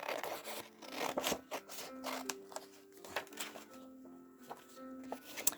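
Scissors snip through book paper along a traced heart outline, giving a series of close, soft crisp cuts and rustling paper with quiet pauses in between.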